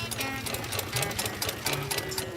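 A household sewing machine runs steadily as a woman stitches neighbours' clothes, a fast close mechanical rattle with rhythmic needle ticking and a low motor hum, continuous throughout.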